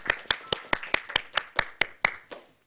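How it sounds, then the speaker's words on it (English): A small burst of handclaps at an awards event, about ten sharp claps at a steady pace, tapering off at the end; sparse, close and fairly quiet. "we'll give you another little round of applause"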